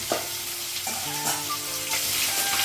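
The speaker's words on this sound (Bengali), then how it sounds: "কাটিস মাছ লাগিয়েছি কড়াই।" Catfish pieces frying in oil in a kadai wok, a steady close crackling sizzle with faint utensil clinks over it, no talk.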